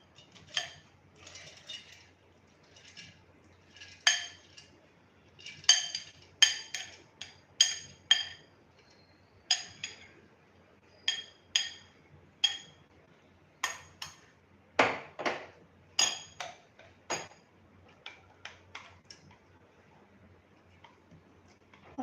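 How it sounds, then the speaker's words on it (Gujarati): Dry lentils clattering into a mixer jar, a long series of sharp, irregular ticking and rattling bursts as the grains hit the jar, close and fairly quiet with short pauses between. "આપણે એક મિક્સર જારમાં દાળ ઉમેરીશું."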